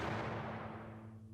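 A video game explosion in The Final Station booms loudly at the start, then its deep roar decays and fades over about a second, heard alone.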